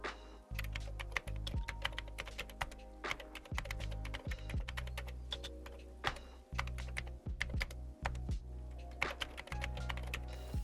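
Fast typing on a computer keyboard while coding electronics for a vinyl record scanner, a dense stream of close, crisp key clicks with heavier thunks on the spacebar, steady through the whole stretch with no talk.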